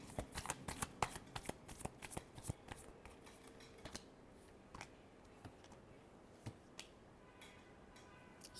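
Tarot cards are shuffled close by, with quick riffling flicks that come densely at first and then thin out into scattered soft taps, quiet overall.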